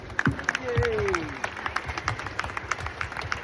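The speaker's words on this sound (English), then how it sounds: "Let's give him a round of applause." Round of applause from an audience at a gathering, uneven clapping with distinct individual claps and murmuring voices, a whoop rising over it early, moderately close.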